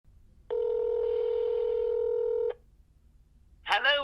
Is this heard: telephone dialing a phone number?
yes